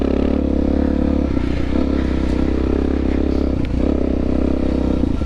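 A Suzuki DRZ400 dirt bike rides off-road through snowy trails, its single-cylinder engine droning loud and close throughout, with clatter and rough scraping over the terrain and small dips in throttle.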